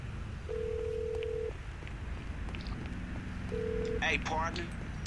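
A payphone in GTA 5 Online rings twice in a low, steady electronic tone, with a short voice snippet between the rings and faint background noise.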